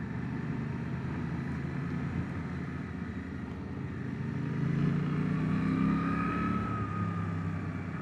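Riding a 2025 Suzuki GSX-8R, the rider hears loud, constant wind roar buffeting the helmet, blended with a steady engine drone that swells and shifts pitch partway through.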